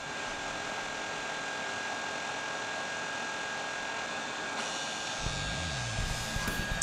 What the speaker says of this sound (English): heat up the solder around this chip